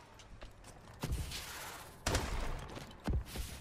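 An MP443 Grach pistol firing in Call of Duty Advanced Warfare, with three sharp punchy shots spaced about a second apart over a low game background hum.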